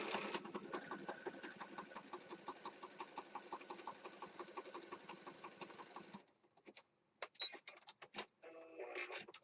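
A sewing machine stitches down a pink and black junk journal piece, running steadily with a fast, even rhythmic chatter for about six seconds, then a few short separate bursts and clunks as it stops and restarts.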